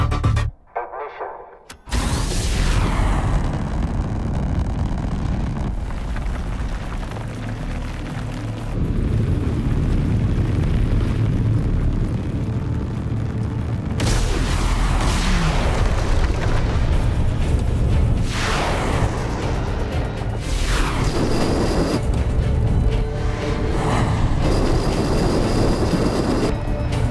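A rocket ignites and lifts off with a deep, sustained roar and rumble that fills the space after a brief quiet start, swelling and surging in waves, loud and continuous.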